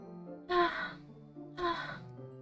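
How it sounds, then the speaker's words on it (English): Two sharp inhales, as if air is drawn through the teeth, heard in Doki Doki Literature Club, each about half a second long and spaced a second apart, close and fairly loud over a quiet hum. "It sounds like breathing. A sharp inhale, like someone is sucking air through their teeth."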